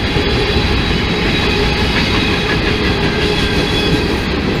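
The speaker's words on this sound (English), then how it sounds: "this is a really, really long train" A very long train speeds past close by with a loud, continuous roar of wheels and rattling cars that never lets up, and no voices over it.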